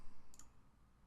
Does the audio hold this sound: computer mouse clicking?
yes